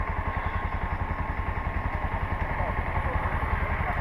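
A motorcycle engine idling nearby on a quiet rural road in Negros, an even rapid low putter with a steady pulsing rhythm throughout.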